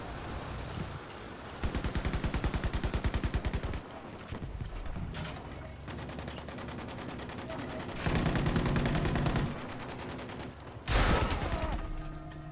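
Automatic weapons fire in a Battlefield V infantry fight against Japanese defenses comes in several long rattling bursts, separated by quieter stretches of battlefield noise.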